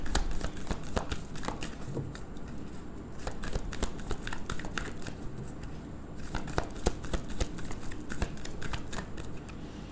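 A deck of tarot cards is shuffled and drawn, giving a steady, dense riffling and flicking that runs close and fairly loud throughout, with only a trace of voice.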